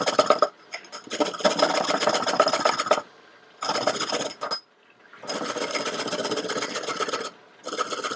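Carrot sound played back at double speed: dense, gritty rasping in long bursts separated by short silences, close and fairly loud.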